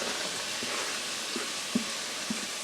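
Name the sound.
onions sizzling in pan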